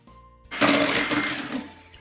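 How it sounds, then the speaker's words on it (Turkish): A yogurt, sugar and oil mixture is beaten in a bowl, producing a brief close whirring burst of about a second that swells and then fades. "Boza kıvamına gelinceye kadar çırpacağım bu karışımı."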